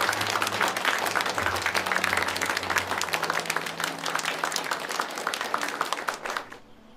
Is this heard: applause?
yes